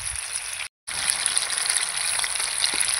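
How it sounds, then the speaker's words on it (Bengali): Chicken satay frying in oil in a small wok gives a constant bright sizzle up close, interrupted by one brief silent break before the sizzling continues. "অল্প অল্প করে ভাজবেন, তাতে ভাজাটা ভালো হবে"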